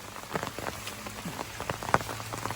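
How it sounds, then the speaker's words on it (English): Steady rain falls on a hiking trail in the Appalachian mountains, a close patter of drops hitting leaves and ground, with irregular louder splats over a soft continuous hiss and no voices. "It's raining on us pretty good."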